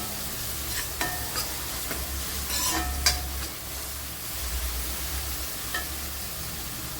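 Vegetables for egg noodles stir-fry in a pan with a soft, steady sizzle, punctuated by a few light scrapes and taps from stirring, fairly quiet and close.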